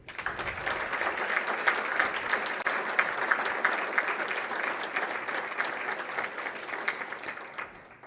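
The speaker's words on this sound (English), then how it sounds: "one more round of applause." An audience at a scholarship gala ceremony gives a sustained round of applause, dense even clapping holding strong for several seconds before tapering slightly at the end.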